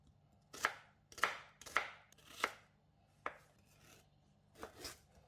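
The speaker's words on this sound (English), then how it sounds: "cut the ginger into chunks for easy blending" A knife chops ginger into chunks on a board: six sharp, separate cuts spaced irregularly, fairly close and clear, with no talking.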